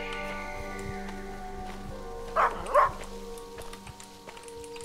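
Two short, distinct dog barks ring out in the horror video game Maid of Sker, standing over a steady droning ambient hum, with no talking.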